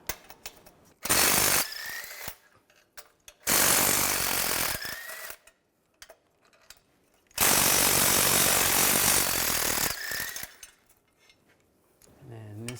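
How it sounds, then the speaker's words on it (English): Bracket bolts on a 2005-2010 Chevrolet Cobalt being removed with a 16mm socket, loud buzzing bursts of an impact tool in three runs separated by quiet gaps, with light metallic clinks between them. "Use a 16mm socket to take these three out."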